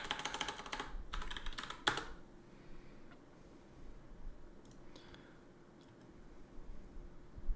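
Computer keyboard typed on in a quick burst of close clicks at the start, then a few faint scattered taps over quiet room tone.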